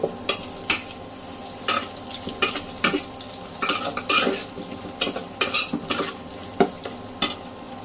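Onion frying in a pan on an electric stove while being stirred, with repeated scraping and tapping of a spoon against the pan over a constant low sizzle, close and clear.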